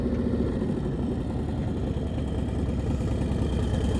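A motorcycle engine idles steadily during slow-speed riding practice in Florida, a close, continuous low throbbing with no revving.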